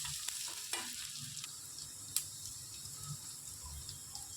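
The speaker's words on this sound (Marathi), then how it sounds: "हा कांदा थोडा परतून घ्यायचा." Chopped onion, about half a cup, sautéing with garlic in a pan for a peanut curry: a steady faint sizzle with light stirring scrapes and a few clicks of a spoon on the pan, no voices.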